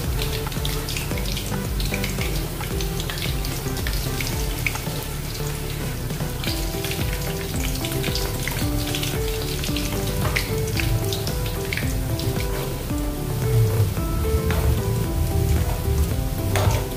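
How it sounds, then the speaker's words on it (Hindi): Veg Manchurian balls frying in hot oil while being turned, a steady loud sizzle and bubbling that runs throughout, close and uninterrupted, no talking. "ऐसे पलट पलट के इसको तलना है, अच्छे से अंदर से तलने के लिए होना, तभी अपने मंचूरियन अच्छे से बनेंगे।"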